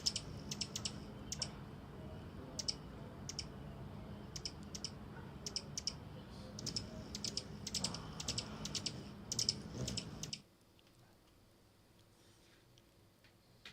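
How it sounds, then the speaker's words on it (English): Rapid, uneven clicking of keyboard typing, close and fairly loud, plays steadily for about ten seconds as a recording, likened to a typewriter, then stops abruptly into near silence. "it sounds like a typewriter"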